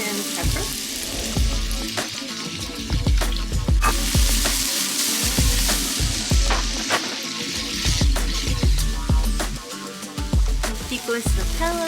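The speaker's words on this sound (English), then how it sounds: "Adding some oil to the pan, shallots and the onion and the pepper." Shallots, onion and pepper fry in oil in a pan with a continuous close sizzle, broken by frequent scraping and clinking as they are stirred.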